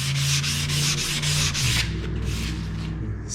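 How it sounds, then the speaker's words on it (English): Fine sandpaper scrubs over primer on a Z28 car body in steady back-and-forth strokes, loud and close, about six even passes before slowing into softer rubbing. "I'll grab a finer piece of sandpaper here. When you sand that, it will sand all the tops off"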